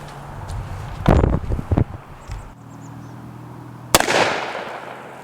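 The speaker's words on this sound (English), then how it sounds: "We've got a 240 grain jacketed hollow point, 44 Magnum, fired out of my Smith & Wesson Model 629." Two sharp, loud reports of a 240-grain jacketed hollow point .44 Magnum fired from a Smith & Wesson Model 629 revolver, the first followed by a brief echoing crackle and the second ringing out near the end, outdoors.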